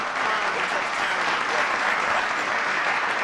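Clapping fills the whole stretch as a dense, even wash of sound, loud and continuous like a crowd applauding, with no breaks and no voices standing out.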